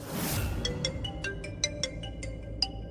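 A phone rings with an incoming call, a chiming ringtone of short tones repeated at a steady rhythm over a quiet background, close by and fairly clear.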